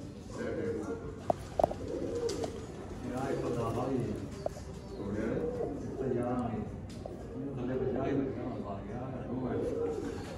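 Golden pigeons of the Mian Nazir bloodline coo repeatedly at close range in soft, rolling phrases, with faint wing and movement noises in between.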